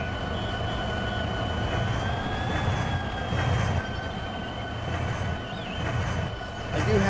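In the Run 8 train simulator, a train rolls past a track switch with a steady low rumble and a sustained high wheel squeal that drifts slightly in pitch, and no voices.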